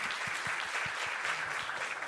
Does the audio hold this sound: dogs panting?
no